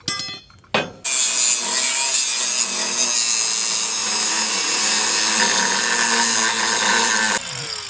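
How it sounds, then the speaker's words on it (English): Power tool cutting through a welded seam on the body of a 1959 Pontiac Catalina Safari wagon, a loud steady grinding-saw whine that runs without a break for about six seconds after a couple of short starts. "Now, of course, it's welded down the backside, so we gotta cut that."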